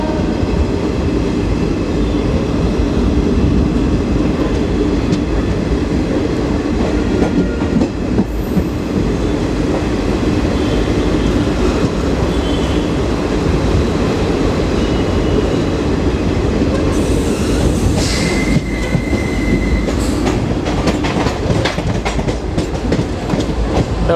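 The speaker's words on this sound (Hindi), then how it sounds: "और ट्रेन है पाटलिपुत्र एक्सप्रेस।" A Pataliputra Express hauled by a WAP-7 electric locomotive passes near Kalyan Junction, a loud, continuous rumble of wheels with steady rhythmic clatter over rail joints and a brief high squeal near the end.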